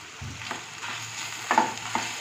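Ground spices, including hot chilli powder, coriander and cumin powder, frying in a pan while a spoon stirs them, giving a steady soft sizzle with a few sharper scrapes near the end.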